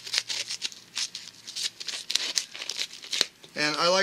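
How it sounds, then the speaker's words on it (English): Small multitool scissors snipping through a paper envelope, a rapid series of crisp close cuts with papery crinkle, ending as a voice begins speaking. "I'm cutting through the entire envelope here."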